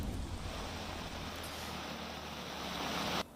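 Heavy rain falls over flooded low-lying streets in Bhabhar and Deodar, Gujarat, making a constant, dense hiss and wash of water that cuts off abruptly near the end.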